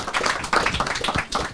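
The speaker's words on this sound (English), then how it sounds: "please give a round of applause to our panel" Audience applause for a panel at a blockchain finance conference, a dense burst of clapping hands that swells and continues for a short stretch, close and fairly loud.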